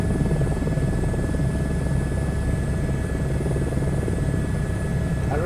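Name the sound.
helicopter engine in Microsoft Flight Simulator 2024 video game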